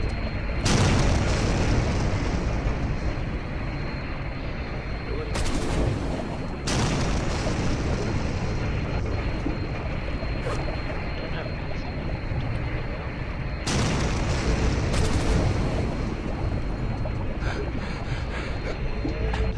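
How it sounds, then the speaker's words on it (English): The opening cutscene of the survival game Stranded Deep, with a plane going down, brings a series of loud, booming explosions separated by sharp bursts and followed by a continuous roaring rumble, heard without talk. "Another explosion"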